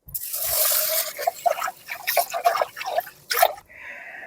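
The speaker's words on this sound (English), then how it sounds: "basically I'm just really eyeballing how much water should go in it" Water is poured into a pot of rinsed rice in a home kitchen for cooking, making a rushing splash that breaks into a run of close, uneven drips and plops. No one speaks.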